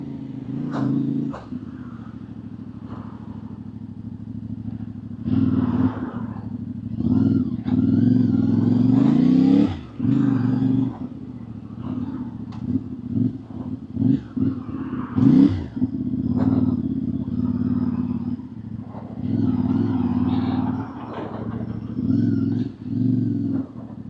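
A CFMOTO 450MT IBEX adventure motorcycle on a test ride in Germany, its engine droning and revving up and down with steady low rumble and occasional gear-change dips, continuous and close throughout.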